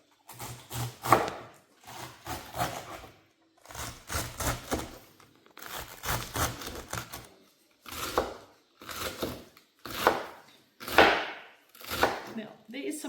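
A knife slices cabbage for sauerkraut on a cutting board, giving quick crunchy cuts in short repeated bursts separated by brief pauses, close and clear.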